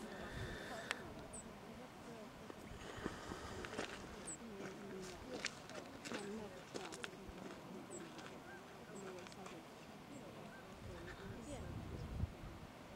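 Wind buffets a microphone outdoors during an Otterhound tracking dog test, a rough continuous rumble with scattered thumps and rustles, while a person talks faintly throughout.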